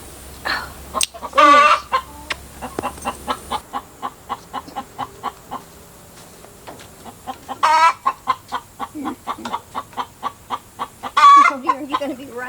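Chickens cluck repeatedly in a farmyard livestock shelter, with a few loud squawks and steady rhythmic clucking near the microphone, one hen laying an egg close by.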